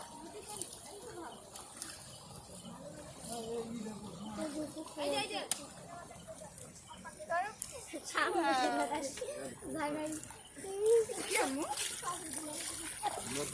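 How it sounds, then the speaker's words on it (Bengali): Small feet splash and slosh through rainwater puddles after a downpour, soft intermittent splatters close by beneath an adult's and a child's ongoing chatter. "চমনি [[পানিতে নেমে পড়ছো কি সুন্দর]]"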